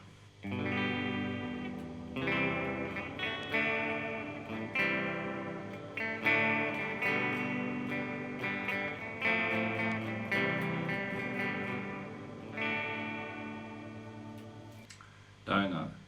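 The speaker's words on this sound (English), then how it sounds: "Modulated reverb." Electric guitar through an Electro-Harmonix Oceans 11 reverb pedal on a modulated reverb setting strums chords and short phrases drenched in shimmering, warbling reverb that lingers between notes, with a few light clicks at the end.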